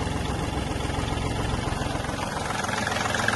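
A Kubota L1-185 mini tractor's diesel engine idles steadily up close, a rough, continuous low rumble with a fast chugging beat and no voices.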